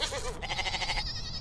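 A goat bleats in a 3D animated cartoon set at an Eid livestock market: a wavering, nasal cry under a fairly loud ambient bed, with a higher tremulous second bleat following.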